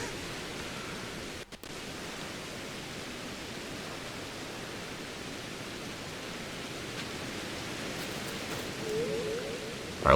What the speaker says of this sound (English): Doing this in the pouring rain is really actually fitting.